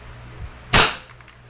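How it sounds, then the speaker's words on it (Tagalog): A single sharp crack from a Wingun 708 airsoft revolver fired double action, close and loud, preceded by a faint mechanical click from the trigger pull, with no talk. "Now, test naman natin yung double action."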